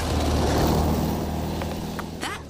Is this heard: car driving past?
yes